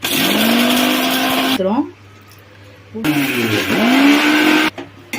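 Mixer grinder grinding half an onion while cooking a traditional fish curry, loud close whirring bursts that spin up, stop briefly and start again.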